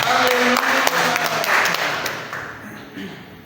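A church congregation claps during a morning service, a brief patter of hands mixed with voices that fades away toward the end.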